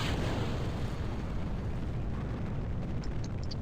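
Rocket engine roaring steadily at launch in the Kerbal Space Program video game, a loud continuous rumble throughout with no talking.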